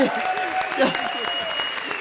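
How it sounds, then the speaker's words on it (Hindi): A studio audience at a televised comedy show claps in a steady, close wash of applause lasting about two seconds, while a voice carries on over it. "अरे जोरदार ताली बजाइए"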